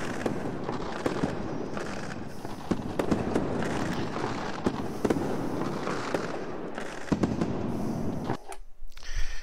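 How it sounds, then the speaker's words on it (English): Fireworks launchers in Unreal Engine 4 set off a dense, continuous run of crackling bursts and pops, loud and busy for most of the stretch before abruptly cutting to near silence at the end. "all I did was I placed in four of the fireworks launchers"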